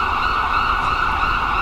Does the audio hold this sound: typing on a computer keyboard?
no